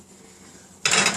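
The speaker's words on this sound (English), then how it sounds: "Let me open up my oven here and place these right inside." A baking pan of stuffed portabella mushrooms slides into a home oven, giving one short metallic clatter and rattle after a quiet pause, close by and brief.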